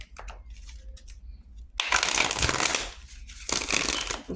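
A deck of tarot cards is shuffled close up in two bursts of riffling, papery flutter, separated by a brief pause with soft handling and faint rustles.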